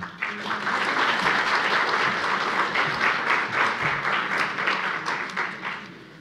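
An audience at a legal panel session applauds a departing speaker, loud sustained clapping from many people that holds steady and then tapers near the end.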